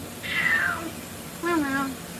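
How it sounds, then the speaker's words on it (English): A Maine Coon cat with a lion cut meows twice, close and clear: a falling call, a pause, then a lower drawn-out meow. "Meow meow."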